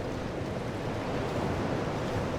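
Ocean waves wash steadily onto the shore at Majula in the video game Dark Souls 2, a soft, even surf hiss with no distinct breaks and no voices.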